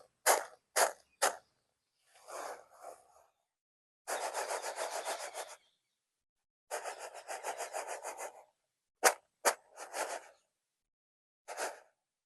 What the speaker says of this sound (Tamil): எங்களோட சுழவில கிடைக்கிற சத்தம் எப்படி கேட்குதுன்னு பாருங்கோ